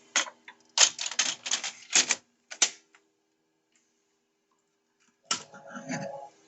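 Ribbon and lamination film being loaded back into a Peak RTX6600 card printer: a quick cluster of sharp plastic clicks and snaps close up, then a pause of silence, then another click followed by a softer rustling handling noise.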